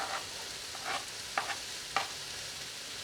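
Diced garlic cloves sizzling in melting fat, likely olive oil, in a pan while making creamy Tuscan chicken, a soft steady fry with a few brief stirring clicks.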